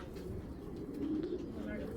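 A male pigeon coos softly in a low, steady murmur over a constant background rumble, with a slightly fuller call near the middle.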